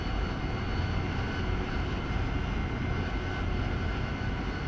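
Steady, continuous aircraft engine drone in DCS World as a jet sits waiting for takeoff clearance, a broad even roar held at constant loudness throughout with no break or rise.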